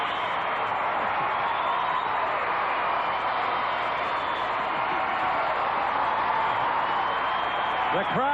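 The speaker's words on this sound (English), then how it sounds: "The crowd is on its feet, saluting what they feel will be the champion in 1991." Arena crowd at the 1991 McDonald's American Cup gymnastics meet roars and applauds a gymnast's finish, a dense, steady wash of cheering and clapping filling the hall throughout.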